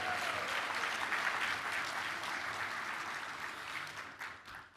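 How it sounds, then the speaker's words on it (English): Sustained applause from an audience honoring tribal leadership at a Native American college opening ceremony, steady and dense for several seconds before thinning out near the end. "Let's give one more round of applause"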